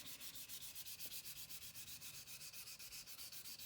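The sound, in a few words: sanding a mud-filled gun stock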